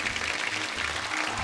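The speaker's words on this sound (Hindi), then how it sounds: "हमारे सिंह साहिबान के लिए जोरदार तालियां।" Studio audience applause on the set of The Kapil Sharma Show, a steady, dense clapping wash filling the whole short stretch with no talk over it.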